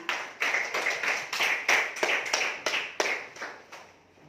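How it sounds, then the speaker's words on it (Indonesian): Classroom clapping for a student named Jordan, a group of children clapping in a quick, regular rhythm of distinct sharp claps, fairly close, ending after about four seconds. "tepuk tangan untuk Jordan"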